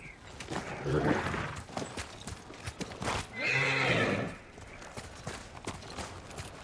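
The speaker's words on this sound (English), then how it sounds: "Horse!" A horse neighs loudly in a long whinny amid a clatter of hooves, with wind and scattered game sounds around it, in the video game Ghost of Tsushima.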